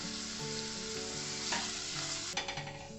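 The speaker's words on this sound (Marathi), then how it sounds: "थोडंसं ना मीठ स्प्रिंकल करते मी, त्याच्याने कांदा कसा लवकर फ्राय होईल" Sliced onions sprinkled with salt fry steadily in hot oil for biryani, a dense continuous sizzle with a few stirring scrapes and clinks near the end, no talking.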